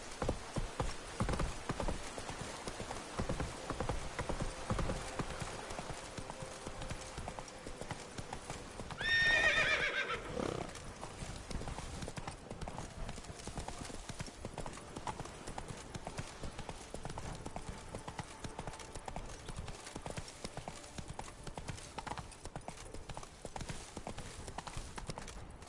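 Hooves of a horse named in The Witcher 3 video game clip-clopping in a steady rhythm throughout, with a brief neigh or whinny partway through, set against game ambience.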